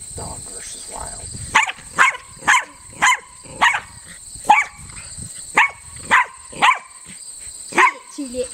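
A dog barks repeatedly at a giant mantis, about a dozen sharp, evenly spaced barks over a steady high-pitched insect drone, with people talking quietly in the background.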